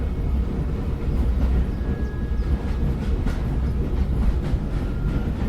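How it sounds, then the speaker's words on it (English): A train in the video game Grunnd rumbles steadily with heavy low-end roar and faint clattering, loud and continuous throughout. "I am the heart and soul of this train, man."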